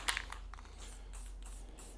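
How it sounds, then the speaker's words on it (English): Chrome spray paint hisses from an aerosol can onto a wooden sample board in an epoxy countertop workshop, a soft continuous spray with short puffs and rattles, quiet and steady. "this is our chrome spray paint"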